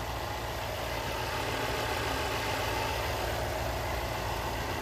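A 2019 Mercedes-AMG GLS 63 with its handcrafted 5.5-liter bi-turbo V8 idles steadily under the open hood, a close, even, deep rumble with no revving and no one talking.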